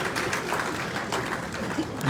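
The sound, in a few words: audience clapping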